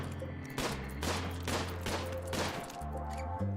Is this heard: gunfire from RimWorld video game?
yes